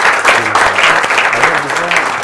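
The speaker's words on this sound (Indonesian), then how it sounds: "tepuk tangan" Campus audience at an interfaith dialogue broadcast gives a short burst of applause, brisk, fairly loud clapping with voices audible beneath it.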